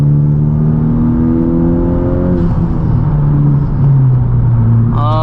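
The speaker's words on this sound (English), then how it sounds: "Am I doing a fourth gear pull?" A Honda Civic Type R engine revs hard in fourth gear and climbs steadily in pitch, dropping briefly at a shift before pulling again, loud and close.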